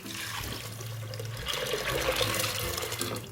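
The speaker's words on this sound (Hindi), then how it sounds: "अब हम इसमें जो है वो दाल ऐड कर देंगे।" About a cup of whole moong dal goes into a cooking pot of fried masala whose oil has separated, making a close, wet pouring and trickling sound that swells midway through a few seconds.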